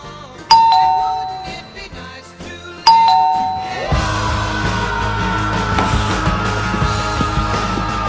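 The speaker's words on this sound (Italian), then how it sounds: "quando il corriere mi suona alla porta." A doorbell chimes twice in bright, ringing tones a few seconds apart, each decaying before fuller, continuous background sound takes over.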